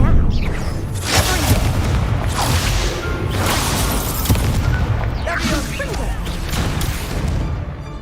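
Confringo fire spell explosions in the Hogwarts Legacy video game, a series of loud booming blasts with whooshing bursts recurring every second or two over dense continuous game noise, with a voice speaking.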